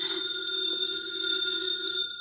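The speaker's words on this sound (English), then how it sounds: "The phone is ringing." A house telephone bell rings continuously in a 1950 radio drama, a bright steady metallic jangle held across the whole span with no talk over it.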